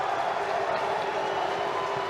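A baseball stadium crowd during a Texas versus LSU college game livens up, a steady wash of cheering and murmur with a commentator talking over it.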